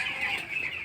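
A flock of 13-day-old broiler chickens clucking and peeping at a farm, a busy continuous chorus of high chirps, fairly close and moderately loud, with no talking.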